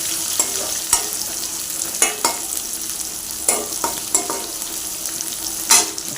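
Onions frying in a pan for sambar give a loud, continuous sizzle broken by irregular crackles and stirring clicks, with no voices.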